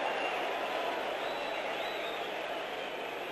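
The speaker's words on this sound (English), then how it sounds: "crowd cheer Mr. Allison, the Derby crowd that is" A Derby crowd at a 1990 Derby County v Port Vale football match lets out a broad, steady roar of derisive cheering, distant and sustained across the stadium with no break.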